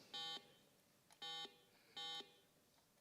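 Three short electronic buzzes from a quiz bowl buzzer system sound in an even sequence, each a bright, harmonic-rich tone lasting a fraction of a second, with quiet gaps between them.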